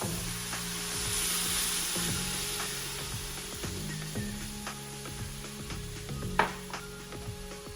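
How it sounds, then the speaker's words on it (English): A cup of beer goes into a pot of Ecuadorian chicken stew, which sizzles and hisses steadily while something stirs and clinks, with a soft melodic tune in the background. "So now we're going to add the cup of beer."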